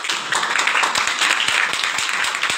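A sermon audience breaks into loud, sustained applause, a dense wash of clapping with distinct individual claps standing out in a loose, steady rhythm.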